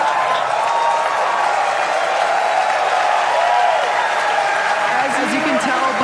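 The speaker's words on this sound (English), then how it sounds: "As you can tell by the excitement from the crowd here at Mission Control Center in Hawthorne" Crowd at SpaceX Mission Control in Hawthorne reacting to a Starship flight's engine cutoff, a steady wash of cheering and applause filling the room, dense and continuous, close by.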